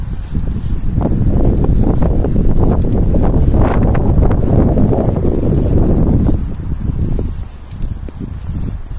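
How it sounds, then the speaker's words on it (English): Strong wind buffets the microphone outdoors in a large cemetery on a cold day, a loud continuous rumbling roar that eases slightly toward the end. "it's windy, so I'm hoping that doesn't interfere with the sound"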